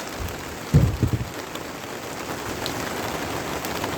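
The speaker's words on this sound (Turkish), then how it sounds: "Bu sene yağmurlu gitmesine rağmen hala yağıyor." Steady rain patters on a surface at a greenhouse vegetable garden, with a few louder low thumps near the start and a constant hiss throughout.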